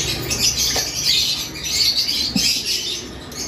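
Pale fallow opaline aviary birds call in a steady chorus of high chirps and squawks, close and continuous, with no talk over them.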